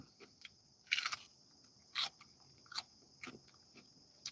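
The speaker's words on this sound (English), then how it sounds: "I don't know if you guys can hear that crunch," Someone bites into a thick-walled, sweet aji pepper, making several short, sharp crunches close by against a quiet background.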